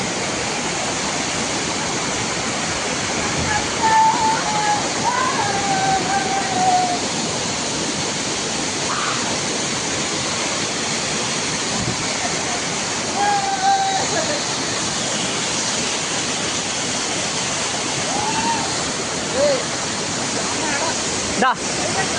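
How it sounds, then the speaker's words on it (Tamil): A forest waterfall at Mayil Parai roars in a steady, dense wash of falling water, loud and close throughout, while voices speak faintly over the rush. "இதான் ப்ரோ ஃபால்ஸ்"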